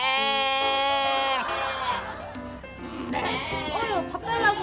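Baby goats bleat loudly and close by on a farm, with a long wavering cry and then shorter calls. People talk over and between the bleats.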